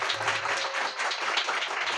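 Many worshippers in a church clap together during a Sunday service, a thick, even patter of hands that stays loud and uninterrupted for the whole moment.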